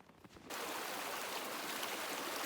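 A stream at a hiking-trail water crossing in the Hancock mountains, its steady broadband rush of flowing water starting abruptly and continuing evenly and close by, with no talk.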